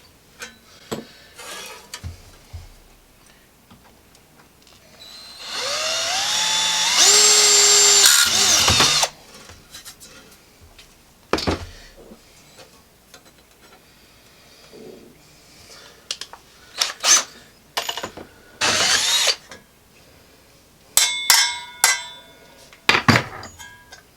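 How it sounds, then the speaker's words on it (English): A power drill pre-drills holes for self-tapping screws while an Edison light fixture is built, whirring in one sustained burst of a few seconds, then several shorter bursts, with clicks and handling noises between them. "So, okay, so we are going to pre-drill the holes into the bit."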